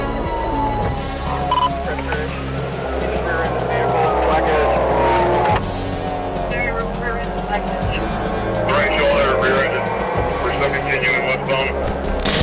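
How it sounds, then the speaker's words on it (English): An SUV fleeing police at over 120 mph weaves through traffic, engine roaring steadily throughout with tires squealing and skidding in bursts, under a loud, busy mix of road noise and other vehicles. "pushing the SUV past 120 miles per hour while weaving recklessly through traffic"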